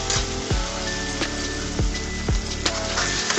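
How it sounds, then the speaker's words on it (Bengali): Potato pieces fry in oil in a pan with a dense, continuous sizzle, broken by sharp scraping knocks and clacks of a utensil against the pan at irregular intervals. "আলুটা আমি এইভাবে 5 মিনিট মতো ভেজে নিব।"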